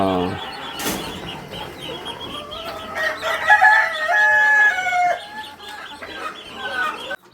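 Country chickens cluck and crow nearby, a rooster's drawn-out call rising above scattered hen clucks, with no talking.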